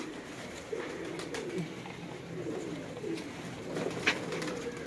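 Pigeons cooing close by, soft repeated throaty calls overlapping through the stretch, with a few brief chirps and faint rustling behind.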